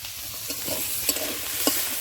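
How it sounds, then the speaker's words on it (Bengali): Tomato, beans and peas are sautéed together in a pan for a potato curry: a close, steady frying sizzle with repeated scraping and clattering stirs from the spoon, and no talk. "আমি একসাথেই সব এটা কষে নেব"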